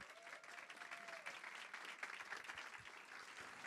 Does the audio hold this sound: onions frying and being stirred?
no